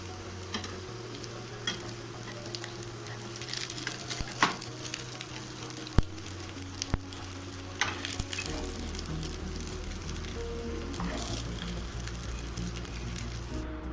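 Cutlets (tikki) shallow-frying in a pan, a steady close sizzle with crackling pops and scraping as they are turned to crisp on both sides, no talking.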